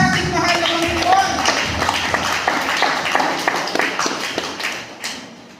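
Members of a Filipino church congregation clap in praise, a dense scatter of hand claps and taps close by, with voices calling out over the applause.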